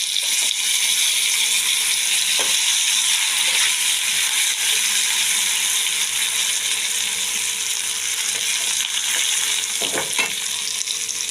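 Potatoes fry in hot oil for a Bengali drumstick curry, giving a loud, steady sizzle throughout with a few scraping stirs of a spatula in the pan.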